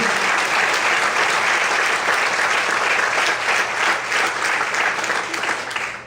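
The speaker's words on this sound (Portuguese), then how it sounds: "Vamos aplaudir o Senhor por isso." Loud, sustained clapping from a church congregation fills the space for several seconds, a thick continuous roar of hands that tapers slightly at the end.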